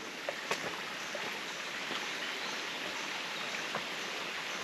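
Concepcion Falls waterfall in a shaded wooded spot, a faint continuous rush of falling water with a few soft splashes and taps over the steady wash.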